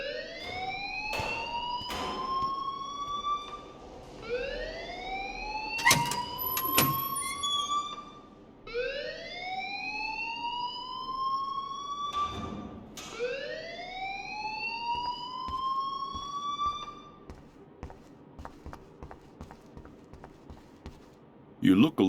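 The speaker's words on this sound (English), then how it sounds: "please turn off that alarm since that's your job" A school alarm in the video game Life Is Strange sounds as repeated rising electronic whoops in bursts with short gaps, ringing out alone over a faint background.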